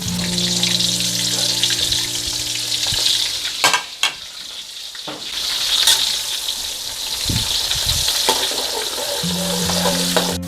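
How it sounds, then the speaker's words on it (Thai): Garlic fries slowly in oil over medium heat, a loud, steady close sizzle broken by stirring scrapes and a couple of brief knocks. "เราทอดนะ ด้วยไฟกลางค่ะ ค่อยๆทอด"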